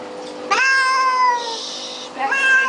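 Cat giving loud drawn-out distressed meows during a flea bath, two long cries close to the mic, the second starting after a short pause.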